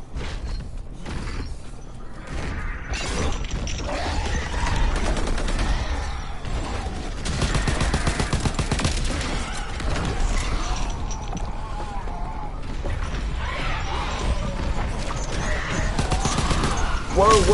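Gunfire in a Call of Duty zombies match, bursts of rapid automatic shots and mechanical clatter in a busy, loud fight that carries on throughout.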